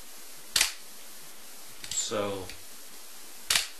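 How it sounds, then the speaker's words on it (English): Old Pentax film camera shutter fired at one-thousandth of a second, sharp isolated clicks near the mic with a brief spoken word between them. "this is a thousandth of a second, the fastest this old Pentax will do"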